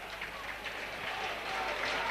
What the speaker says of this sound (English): And the crowd applauding that moment.